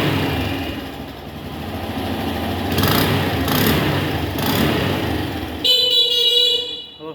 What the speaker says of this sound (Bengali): হর্নের তো সেই পাওয়ার।